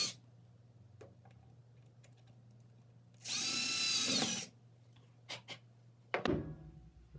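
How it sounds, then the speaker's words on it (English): A power drill whirs briefly for about a second, pre-drilling holes to mount a replacement Klipsch subwoofer part in a quiet room, surrounded by faint ticks, taps and handling clunks. "So now I'm just going to pre-drill a few holes and get this thing mounted."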